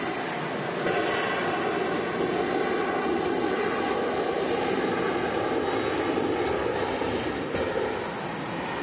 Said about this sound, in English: We got Ryanair now departing.